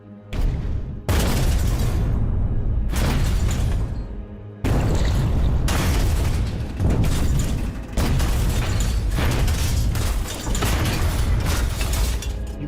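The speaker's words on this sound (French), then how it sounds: "La première des 4 grenades explose à l'arrière du Silverside." Depth charge exploding behind a submarine, the first of four: deep, rumbling booms with mechanical clattering, loud and sustained, with several surges over a continuous roar.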